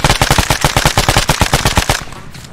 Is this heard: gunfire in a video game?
yes